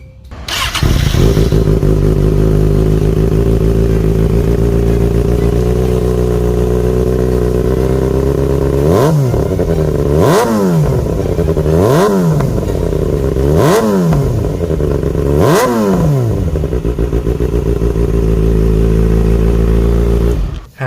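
A 2020 Kawasaki Ninja ZX-6R idles loudly up close, then delivers five sharp throttle blips in quick succession, each rev climbing and dropping back to a steady idle.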